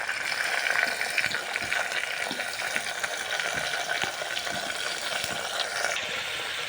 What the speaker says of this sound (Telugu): దాని తర్వాత ముందుగా కట్ చేసి పెట్టుకున్న టమాటాలను వేస్తున్నామండి.